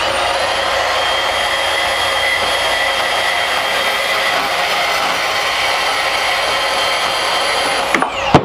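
Power tool cutting a metal tube for an electric power steering conversion on a Tesla-powered Volkswagen Vanagon, a steady loud high-pitched whine running continuously for several seconds, then abruptly stopping with a few clunks at the end.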